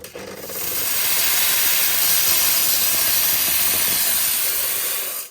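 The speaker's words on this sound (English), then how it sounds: "Very dry steam, and then it cleans itself." A Decent DE1PRO espresso machine's steam wand releases dry steam in a loud, steady, broadband hiss that starts abruptly, holds for about five seconds, then cuts off, with no voices.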